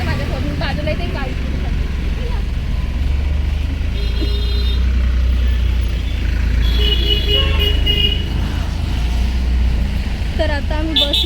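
A vehicle beside a bus depot emits a few short repeated beeps over a continuous low engine rumble and traffic noise, with a voice talking in the background.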